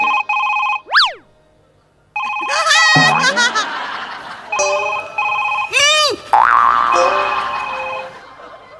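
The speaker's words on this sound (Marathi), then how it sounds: "पुतल्याचा फोन वाजतोय" A mobile phone ringtone plays during a Marathi stage comedy sketch, a bright melodic tune ringing out loud between cartoonish boing effects, with laughter and lively voices around it.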